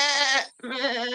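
A voice imitates a sheep bleating: two drawn-out, wavering bleats split by a brief pause, close and fairly loud, with no other sound around them.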